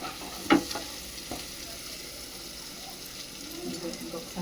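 Chicken frying in a pan with spice powder while being stirred: a soft, steady sizzle with one sharp scrape of the spoon early on, then quieter stirring.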